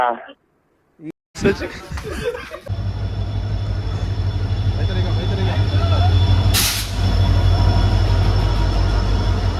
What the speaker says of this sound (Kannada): ಬಂತು ಟ್ರೈನು